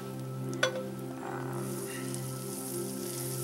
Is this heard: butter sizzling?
yes